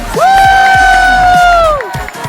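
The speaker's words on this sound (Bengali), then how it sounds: "ইরফান রাজাদের জন্য জোরে আরেকটা করতালি হোক।" An outdoor stage crowd at Foy's Lake cheering for a Chittagonian drama actor, a loud sustained whoop with scattered claps and shouting beneath it for a couple of seconds.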